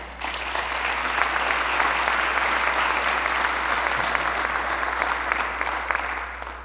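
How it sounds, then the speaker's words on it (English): An audience at the Burnsville State of the City 2022 event applauds the introduction of the city manager. The clapping is sustained and evenly dense, a broad steady wash that holds for over six seconds. "So please hold your applause until I finish the introduction of the rest of our team."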